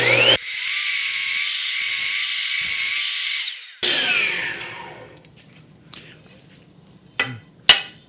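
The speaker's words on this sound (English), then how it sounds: "And then I'll cut this piece of 1 and 5/16 tubing." An Evolution R255 SMS+ miter saw cuts a piece of 1 5/16 inch metal tubing, a loud, steady high-pitched whine lasting about three and a half seconds, then the blade spins down, followed by several sharp metallic clinks and knocks.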